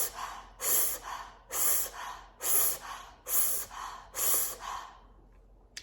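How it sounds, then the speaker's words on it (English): Rapid mouth breathing in the Wim Hof style, sharp inhales like sucking through a straw, six forceful breaths in a steady rhythm, close and loud, with no talking. "you're gonna be breathing 30 inhales and exhales"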